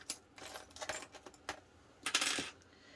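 Metal rectangle rings for a backpack clink and tap together while handled, a scatter of bright, light metallic clicks at close range, with a denser jingle near the end.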